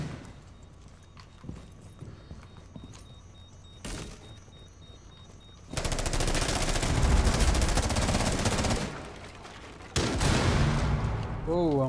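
Gunfire in the video game Rainbow Six Siege: a quiet opening with a single sharp shot near four seconds, then loud sustained rapid firing from about six to nine seconds and another burst near the end, with a player's voice talking over parts.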